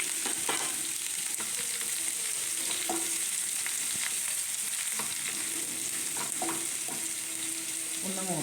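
Seven small chopped onions frying in coconut oil with mustard seeds and chilli for a simple kadala curry, a continuous bright sizzle with occasional soft stirring knocks, close and steady.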